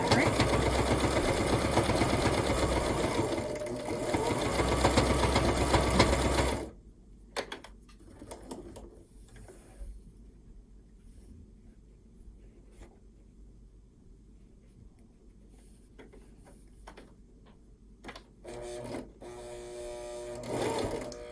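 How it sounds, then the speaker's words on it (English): A sewing machine stitches binding onto a micro mini quilt in a steady loud whir for several seconds, then stops, followed by quieter handling clicks and a brief restart near the end. "I don't let the machine stitch a few stitches before it starts to sew the binding"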